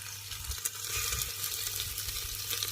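Onion with ginger-garlic paste sautés for mutton curry in a pan over a wood-fired chulha, giving a steady, close sizzle with faint stirring scrapes mixed in.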